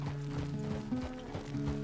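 Horse hooves clip-clop at a steady walking rhythm in Red Dead Redemption 2, close and clear over a faint low hum and no speech.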